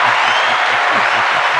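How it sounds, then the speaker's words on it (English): Applause from a podcast audience, a steady dense wash of clapping that fills the whole stretch at close range, with no talk over it. "Big round of applause for my man."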